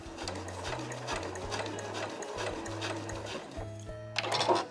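A sewing machine stitches a fabric house-shaped key case in quick, even bursts of buzzing stitches with short pauses between runs, close and clear, ending on a brief clatter.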